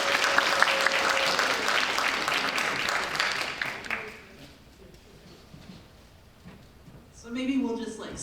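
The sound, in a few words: audience applause for a lecture speaker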